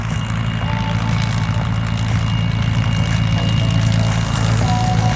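A Long-EZ aircraft flies past at an air show, a loud steady propeller drone with a throbbing low engine hum that holds throughout.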